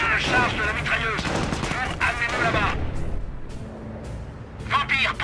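Machine gun fire in Company of Heroes, a World War II strategy game battle at Oosterbeek, with rapid bursts crackling under constant battlefield noise while French-speaking voices talk over much of it.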